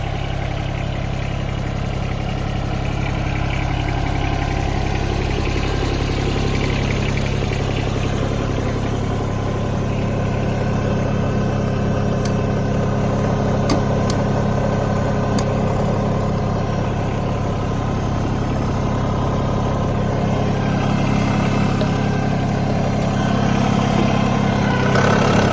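A John Deere 2305 compact utility tractor with 370 hours idles steadily and close, its low engine drone holding an even rhythm for the whole stretch with no talk over it.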